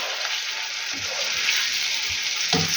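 Minced meat sizzles steadily in a hot pan with a little water and onion, with a few soft stirring scrapes and clicks breaking through the constant crackle.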